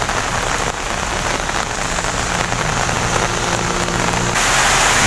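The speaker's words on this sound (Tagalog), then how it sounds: "Kusog pa kayo ang ulan." Heavy rain pours down in a typhoon in Bukidnon, a dense, loud, unbroken roar of drops hitting surfaces, swelling slightly stronger toward the end, with no voices.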